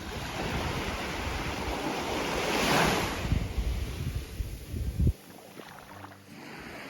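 Surf washes onto Long Beach on Koh Lanta, Thailand, as a broad steady roar of breaking waves with wind buffeting the microphone, swelling midway before a sudden drop to quieter, distant wash.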